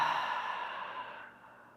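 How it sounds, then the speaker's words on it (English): A steady open-mouth exhale during a yoga breathing exercise in an intermediate vinyasa flow class, one long airy breath out that fades gradually toward the end, heard close and alone. "Open mouth, exhale as you arrive mentally here in your practice."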